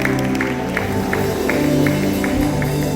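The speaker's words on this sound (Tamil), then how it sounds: "ஒரு கைத்தட்டுல" A church congregation at a miracle night service claps hands in rhythmic unison, steady beats over sustained music and voices, moderately loud and continuous throughout.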